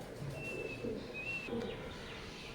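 Pair of imported Oman bloodline Teddy pigeons cooing softly, with low repeated coos in bursts and a faint high chirp above, close by in a quiet setting with no talk.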